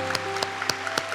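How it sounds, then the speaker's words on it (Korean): Church congregation applauding to welcome newcomers during a Sunday service: a few sharp, evenly spaced claps ring out over a steady sustained tone in a large hall. "우리 박수로 뜨겁게 환영하겠습니다"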